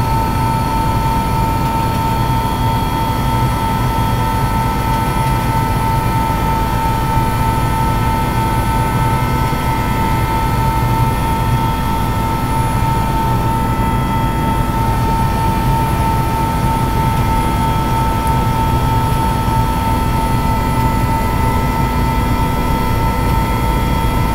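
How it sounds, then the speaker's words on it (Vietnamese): A fixed-wing aircraft engine roars loud and steady from inside the cabin during takeoff from Con Son airport on Con Dao island, a constant hum and drone that holds throughout. "chúc chuyến bay tốt lành rồi đã chuẩn bị cất cánh"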